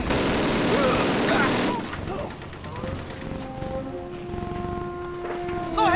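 Call of Duty gunfire opens with a dense, loud rattle of rifle and machine-gun shots for about two seconds, then fades into scattered distant shots beneath sustained tones and battle noise.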